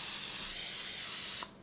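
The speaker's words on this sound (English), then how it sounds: "I pre-spray my pan." Cooking spray hisses onto a baking pan in a steady close burst that stops abruptly just before the end.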